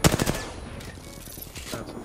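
Rapid bursts of gunfire in the video game Apex Legends, a quick volley of loud shots at the start followed by scattered fainter shots and game noise.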